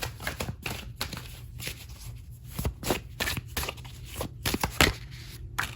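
Oracle cards are shuffled by hand close to the microphone, a run of quick papery riffles and flicks in uneven bursts, with no speech.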